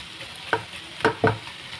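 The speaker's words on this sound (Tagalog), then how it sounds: "haluin hanggang sa maluto yung ating giniling" Ground pork stirred in a frying pan as it cooks, three distinct scraping strokes of the utensil over a soft steady sizzle, close and fairly quiet with no talking.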